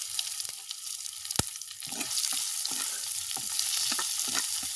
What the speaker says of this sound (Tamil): இப்படியே நல்ல வடிவாக இது பொரியட்டும்.